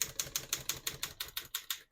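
Twelve steady, evenly spaced key strikes on a 1930 Royal 10 vintage desktop typewriter, crisp mechanical clacks up close with nothing else heard, ending in a brief silence.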